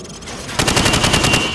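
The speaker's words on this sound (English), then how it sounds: "Now, shoot at the targets while firing from the hip." Rifle fire from the hip at range targets in Call of Duty 4, a rapid burst of closely spaced, loud shots following a short quiet lead-in.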